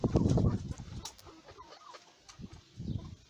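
Chickens and a rooster cluck in a greenhouse, with a loud burst of clucking at the start, a quieter stretch of scattered calls, then another clucking burst near the end.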